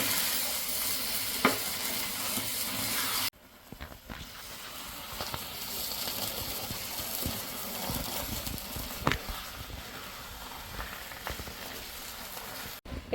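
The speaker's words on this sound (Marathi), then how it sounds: "हे सारखं असं हलवत राहायचं" Thick puran filling of cooked lentils and melted jaggery being stirred in a pan, a steady close scraping and soft sizzle running throughout with occasional louder spoon knocks, no voices.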